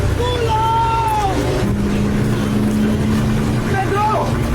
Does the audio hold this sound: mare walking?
no